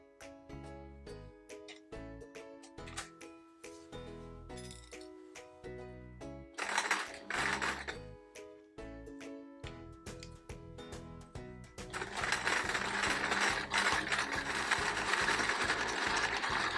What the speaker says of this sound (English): And now it's time to stitch.